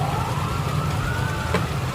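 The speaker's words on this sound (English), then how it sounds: "I'm not sure anybody's hearing us with the sirens being so loud" Emergency vehicle sirens at a Mardi Gras parade wail loudly and steadily, their tone slowly climbing, with crowd and street noise underneath.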